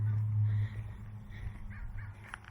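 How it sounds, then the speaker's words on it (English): Crows caw outdoors in a couple of short calls over a low, steady background rumble, with no one speaking. "I hear the birds in the sky"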